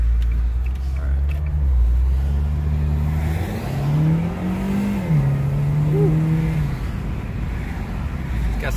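A Dodge Challenger Scat Pack Shaker accelerates, its engine note rising in pitch through the gears with a deep, steady rumble heard from inside the car, loud and continuous with no talk.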